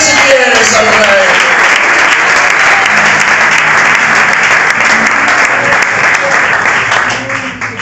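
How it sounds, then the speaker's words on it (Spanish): A church congregation breaks into loud, sustained applause, dense clapping filling the room throughout and thinning slightly only at the very end. "Aplaude si quieres al Rey."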